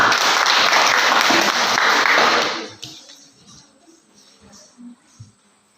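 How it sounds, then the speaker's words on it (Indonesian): A classroom claps for a student group, loud dense applause from many hands that stops abruptly partway through and leaves quiet room tone with a few faint knocks and murmurs. "Ya, tepuk tangan untuk kelompok kabinet"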